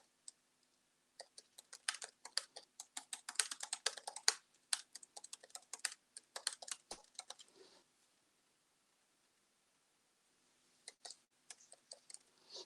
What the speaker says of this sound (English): You simply type your text here